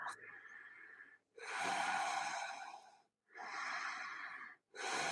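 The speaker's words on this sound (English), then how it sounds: "Steady Ujjayi breaths." Ujjayi breathing during a vinyasa yoga practice, with slow, audible ocean-like breaths drawn through a constricted throat, three long close breaths separated by brief pauses.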